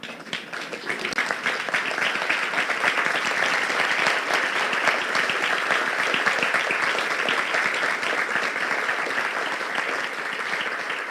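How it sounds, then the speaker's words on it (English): A standing audience at a city State of the City address gives a sustained round of applause, dense clapping from many people that fills the room at a steady level for about eleven seconds. "we all need to stand in honor of these young men up here and give them a round of"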